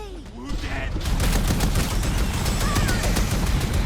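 A pulse gun fires in the Starship Troopers: Ultimate Bug War video game, a dense rapid stream of sharp shots rattling steadily for several seconds, loud and close.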